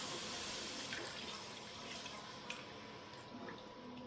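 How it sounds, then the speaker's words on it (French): Water poured into a cooking pot of meatballs with stock, a soft steady rushing and trickling of liquid heard close by and fairly faint, with no talking. "j'ai ajouté l'eau"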